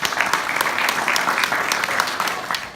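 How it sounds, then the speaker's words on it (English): Audience clapping steadily and fairly loudly, a dense patter of many hands with scattered sharper claps, continuing throughout with faint voices mixed in. "Clap it up, clap it up."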